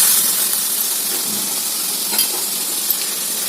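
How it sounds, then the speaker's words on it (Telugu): A pot of boiling water with okra gives off a steady, close bubbling hiss with faint clinks, even and unbroken for the whole stretch, with no talking. "చూడండి ఫ్రెండ్స్, వాటర్ అయితే మరుగుతున్నాయి కదా."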